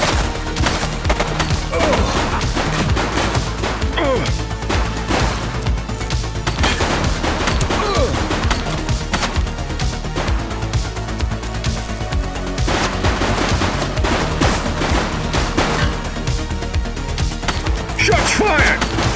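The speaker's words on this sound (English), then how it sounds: "Shots fired!" Repeated loud gunshots and volleys crack through a retro-style police action game, The Precinct, with crashes and impacts mixed in over a busy, constant game soundscape.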